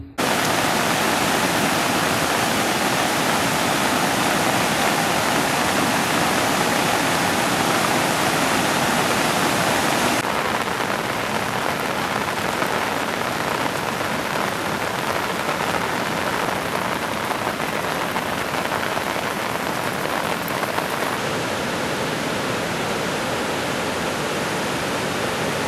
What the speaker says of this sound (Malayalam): ഭൂതത്തൻകെട്ട് ഡാമിൻ്റെ മുഴുവൻ ഷട്ടറുകളും തുറന്നിട്ടിരിക്കുകയാണ്.